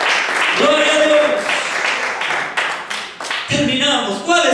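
Evangelical church congregation applauding during a Spanish-language service, scattered claps under loud exclamations and a speaking voice that rises and falls across the clip.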